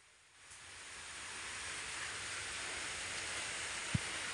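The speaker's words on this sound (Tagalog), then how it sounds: "Medyo lakas-lakas pa po yung ulan." Heavy rain pouring down in a steady, dense hiss that swells in over the first second and then holds evenly, with one brief knock near the end and no voices.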